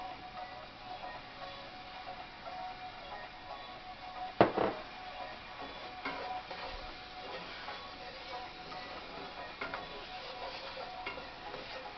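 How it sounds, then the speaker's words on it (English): Soft, steady scraping of a utensil stirring flour into liver-and-onion gravy in a pan, with one louder clatter early on and faint sizzling throughout. "We're going to stir this around because we want to cook this gravy."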